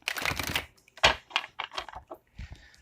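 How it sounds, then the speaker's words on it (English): Cards being shuffled by hand in a quiet room, heard as several separate bursts of riffling and flicking, the first about half a second long, followed by shorter clicks and flutters, close and fairly soft, with no talking. "So, I have been shuffling these cards for a while now."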